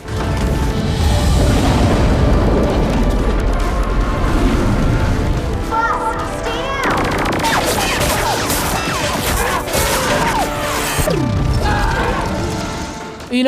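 Gameplay from Saints Row IV on PlayStation 3 erupts in dense, loud explosions, crashes and rapid gunfire bursts, a continuous chaotic barrage of booms and smashing debris.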